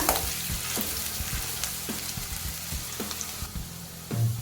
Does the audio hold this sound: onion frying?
yes